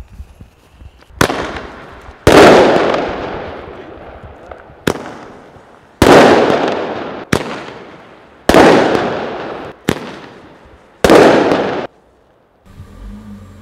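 Fireworks ignited outdoors: six or seven sharp, loud bangs at irregular intervals, each followed by a crackling, fading tail, with brief quiet gaps between blasts.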